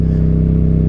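A Yamaha MT-07 or XSR700 motorcycle engine fitted with an aftermarket exhaust gives a loud, close, steady low rumble, heard alone for under a second.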